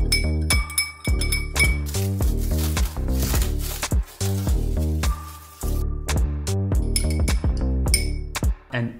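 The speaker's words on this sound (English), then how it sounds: "now you can dilute the baking soda" A spoon stirs baking soda into water in a glass for Indonesian martabak manis batter, producing repeated bright, ringing clinks against the glass in quick irregular bursts, loud and close, with no voices.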